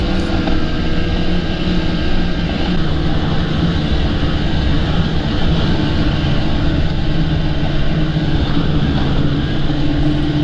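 A snowmobile engine roars steadily while the sled runs along a snowy trail road near Old Forge. The drone is loud, close and unbroken, with wind rush and no voices.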